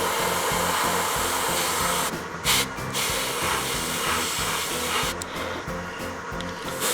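A hair dryer blows steadily on a Tamiya YZF R1 model kit, a close, continuous airy whoosh with a low motor hum that dips in pitch briefly a few times.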